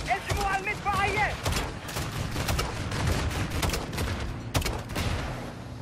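Machine gun fire in Call of Duty Modern Warfare II, with dense rapid bursts and sharp gunshots crackling throughout, while voices shout over the battle.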